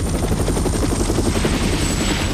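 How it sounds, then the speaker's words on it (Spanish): A helicopter roars close by, its rotor thumping in a fast steady rhythm over a loud engine whine, holding level for the whole stretch. "¡No! ¡Qué va! ¡Eso no es un ovni! ¡Es uno de sus helicópteros!"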